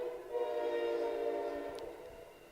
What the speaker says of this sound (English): everything has to stop when the train goes by